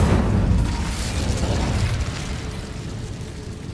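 An Incendio fire spell in the Hogwarts Legacy video game bursts with a loud whooshing boom at the start, then a rumbling fiery roar that slowly fades.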